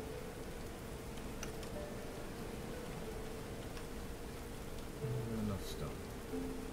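Steady rain in the medieval colony-building game Going Medieval, a soft continuous hiss of falling drops that holds evenly throughout, with someone speaking briefly over it near the end.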